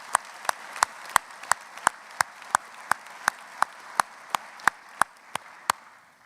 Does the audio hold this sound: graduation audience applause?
yes